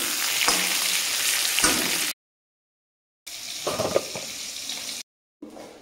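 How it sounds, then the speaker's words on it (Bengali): Pointed gourd (potol) pieces frying in hot oil in a home kitchen, a loud close sizzle in two long stretches broken by silent gaps, with a short final burst. "পটলটাকে আমি লাল লাল করে ভেজে নেব।"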